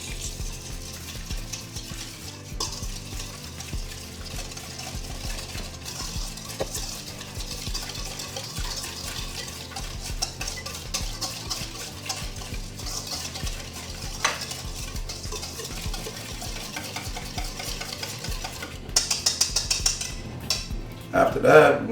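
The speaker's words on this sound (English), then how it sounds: "So you want to give this a good mix." Crab cake mixture with lemon juice and Old Bay seasoning is stirred in a bowl, giving a long run of soft wet squelching and scraping with occasional clinks of a utensil, growing busier toward the end.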